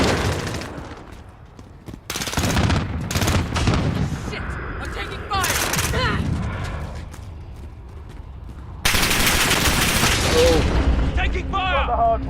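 Heavy video game gunfire with repeated loud bursts and booms across the whole stretch, plus distant explosions. Game voice callouts and player talk run through the action.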